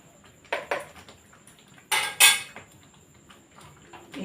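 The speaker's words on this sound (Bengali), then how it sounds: "এখানে যে ভাজা মশলাটা আছে সেটা এবার দিয়ে দেবো" Fried spice mix is spooned into a pan of pickle, with a few faint metallic clinks and clanks of utensil against the pan in a quiet kitchen.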